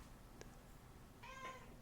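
Indoors, a cat gives one faint, short meow after a brief tiny chirp, heard at a distance against a quiet background.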